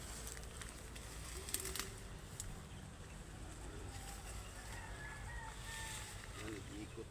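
Chickens in a poultry yard cluck faintly and scattered in the distance over a quiet outdoor background hum.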